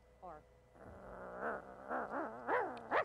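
People imitate dogs, giving a run of voiced growls, whines and bark-like yelps that rise in pitch and grow louder toward the end, close to the mic.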